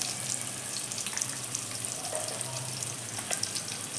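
Onions fry in a pan until golden brown, with salt added, producing a dense, even hiss that runs for the whole stretch, close and moderately loud, with no voices.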